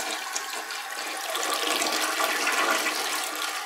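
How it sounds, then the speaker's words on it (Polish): A hotel toilet in Scottsdale flushes with a loud, steady rush of water that swells and holds for several seconds, heard up close in a small bathroom with no speech. "Co mnie interesuje tutaj w kiblu, czy co jest interesujące, to jak się woda spuszcza."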